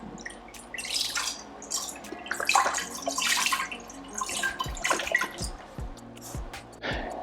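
Vegetable broth splashes and gurgles as it is poured into an Instant Pot, coming in irregular bursts of liquid sloshing and dripping, close and fairly quiet, with no talking.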